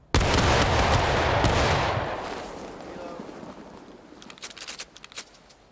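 Company volley of Civil War-era rifles in War of Rights: one loud simultaneous crash of many muskets firing together, rolling into a long fading rumble, followed by scattered smaller clicks and handling noises.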